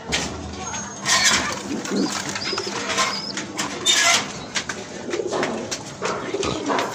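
Several pet pigeons coo in low, throaty rolls at a loft in Lalbagh, with a brief flutter of wings and a person talking over the birds throughout.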